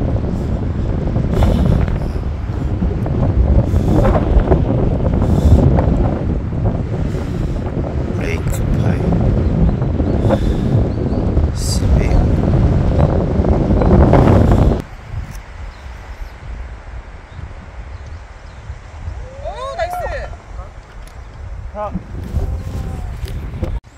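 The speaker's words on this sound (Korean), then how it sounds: "오늘 바람 좀 부네요." Strong wind roars across a golf course in Jeju, a loud steady buffeting and rustle on the microphone for the first half, then drops to a quieter breezy background with faint voices.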